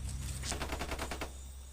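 Bursts of distant gunfire in a rapid rhythmic volley, about a dozen quick shots, sound faint and far off during an outdoor chase with bandits, then stop.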